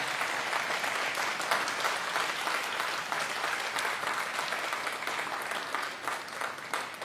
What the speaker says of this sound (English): Big round of applause, please, for the Prime Minister of Thailand, Kun Paetongtarn Shinawat.